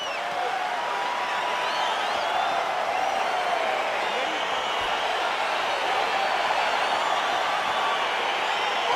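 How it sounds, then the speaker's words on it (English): A UFC arena crowd roars as a fight gets underway, a dense, loud and continuous wash of cheering and shouting with no breaks. "crowd getting excited as this fight gets underway"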